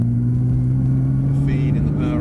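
A Nissan GTR engine drones steadily on a test track as power is fed on smoothly, with a close, loud, even hum running throughout and a faint rise near the end.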